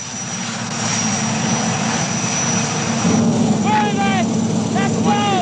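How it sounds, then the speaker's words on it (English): A helicopter carrying an airborne demolition party of British Army sappers drones steadily with a loud, continuous engine roar and rotor whine throughout, while bird-like chirps flicker near the end. "An airborne demolition party is helicoptered in to speedily lay the explosives."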